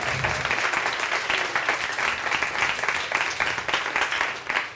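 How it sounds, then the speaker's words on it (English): A seminar audience gives a sustained round of applause, many hands clapping in a full, steady roar that swells slightly in places and carries on to the end without talk. "big round of applause again"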